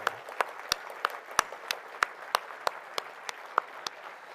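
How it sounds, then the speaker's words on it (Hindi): Sparse applause at an Indian Railways award ceremony, a few distinct sharp claps spaced out over a soft background hum, thin and scattered rather than a full crowd. "तो सबसे पहले सबके लिए जोर से ताली बजाओ।"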